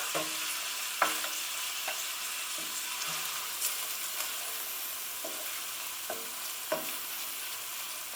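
Frozen garlic and ginger fry in a hot pan with a steady, even sizzle, broken by several sharp scrapes and taps of a utensil stirring against the pan.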